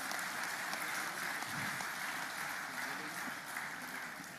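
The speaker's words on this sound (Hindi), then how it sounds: "इस हुनर के लिए तालियां बजाइए" Audience applause at a Hunar Haat event inauguration, a dense, even wash of many hands clapping, steady and sustained throughout before easing slightly at the end.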